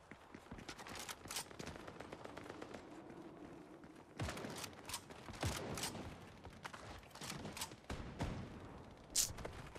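Repeated gunfire bursts and scattered single shots ring out in a Fortnite Chapter 5 match, loud and sharp against a busy game backdrop, with some closer heavy thumps mixed in.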